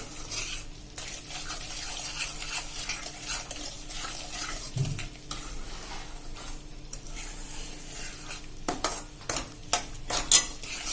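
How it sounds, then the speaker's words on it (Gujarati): A spoon stirs a sugar mixture for sukhdi in a pan, making repeated scraping and swishing strokes with occasional metallic clinks against the pan, up close and with no speech. "આ રીતે આપણે ચલાવતા બબલ્સ આવે ને ત્યાં સુધી આપણે આને મિક્સ કરવાની છે"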